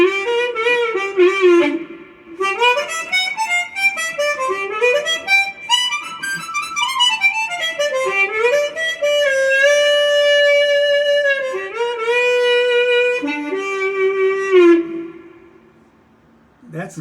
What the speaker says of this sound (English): That's what they call Chicago blues sound.